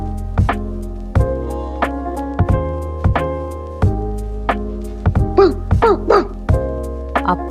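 Dog barking near a cosy hut on a rainy morning, a series of short barks and yips at uneven intervals, close and fairly loud over a steady low background hum.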